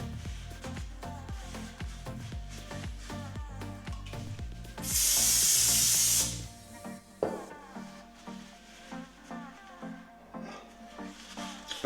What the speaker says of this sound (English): Basically just a super degreaser, like a brake cleaner or so.